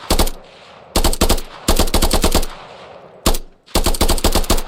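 Rapid automatic gunfire from a video game comes in several loud bursts of quick, evenly spaced shots, separated by short pauses, with no talking.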